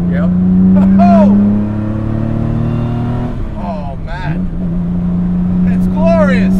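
A modified 1960 Aston Martin DB4 Series II engine drones steadily, then its pitch drops and climbs again as the car accelerates hard, loud and close, with people talking over it throughout.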